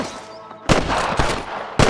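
Sniper gunfire in the video game Red Dead Redemption, two loud sharp shots close together over a low game ambience.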